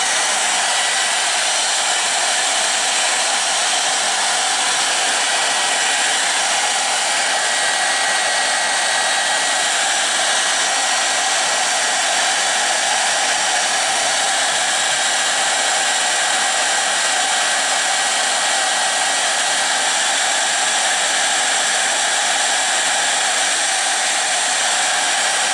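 A hair dryer blows a loud, unbroken, close roar for the full stretch while drying green colour on a wooden spinning top, steady in pitch and volume with no speech over it.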